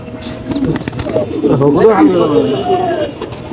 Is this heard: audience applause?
no